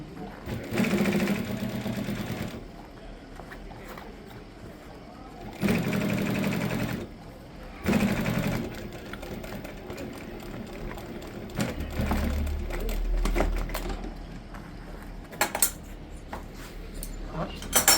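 Sewing machine stitching upholstery fabric for camper van bench seats in a workshop in Tiznit, Morocco, running in loud bursts of a few seconds each, separated by quieter handling clatter and talk.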